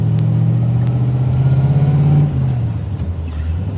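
A 1969 Chevrolet Corvette 350 coupe accelerates on a farm road, its V8 rumbling with a rising pulsing drone heard from inside the car, then dropping in pitch as it shifts and settles.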